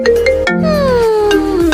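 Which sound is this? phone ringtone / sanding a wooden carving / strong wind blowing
phone ringtone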